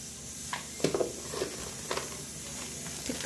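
Bay leaves and whole spices such as cinnamon and cardamom sizzling in hot oil for Ambur-style biryani, a steady close hiss with a few sharp crackling pops scattered throughout and no voices.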